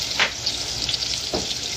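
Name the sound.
tomatoes sizzling as they are added to a pan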